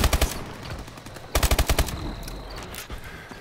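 Rapid machine-gun fire in the Call of Duty: Advanced Warfare video game: a short burst of loud, close rounds, a brief lull, then a second rattling burst trailing into softer distant firing.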